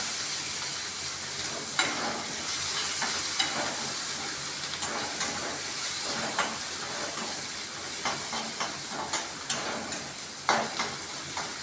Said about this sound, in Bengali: আমি ওই তেলেই আমি এই পেঁয়াজ রসুনটা ভেজে নিচ্ছি